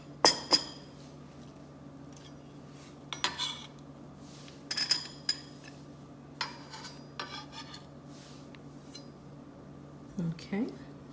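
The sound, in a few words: thin-sliced tomatoes moved into a small mixing bowl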